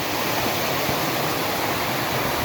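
Clear stream water running down from upstream in a rural farming province, a steady broadband rush with no breaks, close and moderately loud, no voices.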